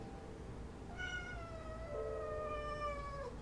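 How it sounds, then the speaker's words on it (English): A house cat gives a single drawn-out meow, fairly faint and close, over a low background hum with no talking. "I don't know if y'all picked up on the meow."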